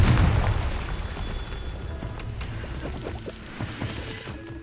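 A Confringo fire spell bursts in Hogwarts Legacy, opening with a loud booming explosion that decays into a crackling, rumbling tail of debris over several seconds.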